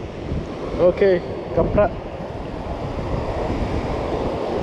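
Strong wind and waves during shore fishing, a constant loud roar of wind and surf, with someone speaking briefly over it near the start.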